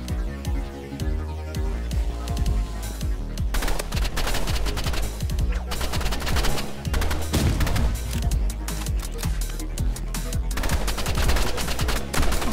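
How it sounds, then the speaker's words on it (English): Rapid rifle fire rattles in Roblox Rivals, burst and assault rifle shots in dense volleys with sharp cracks and booms, continuous and loud across the whole stretch with almost no pauses. "I missed like all my shots at the end there"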